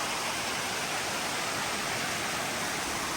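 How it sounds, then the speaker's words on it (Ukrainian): Steady, dense roar of a waterfall on a mountain trail near Lake 22, broadband rushing water filling the whole clip at an even level, with no voices. "Такий водоспад, дуже красиво."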